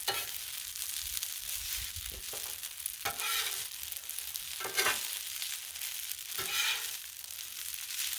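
Shrimp scampi searing on a Blackstone griddle, a steady close sizzle with several bursts of scraping and stirring as the shrimp are moved around on the hot flat top.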